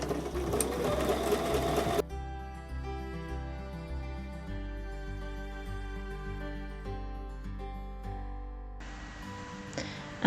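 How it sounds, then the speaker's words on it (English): Sewing machine stitching a quilt block along drawn lines, a loud close whir for two seconds, then a steady humming drone from the motor, and the stitching whir returns near the end. "Sew on top of the drawn line for both units."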